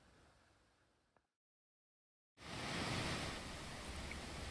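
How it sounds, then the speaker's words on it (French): A waterfall or mountain torrent in Sweden roars as steady broadband rushing water, loud and close, after a short silent break; before the gap the same rush is fainter and more distant. "Tiens, encore une cascade."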